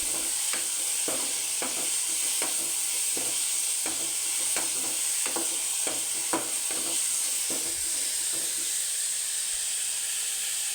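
Spices, cumin and garlic frying in hot oil for a tamarind curry, a steady sizzle broken by regular scraping stirs of a spoon in the pan, close and with no talking.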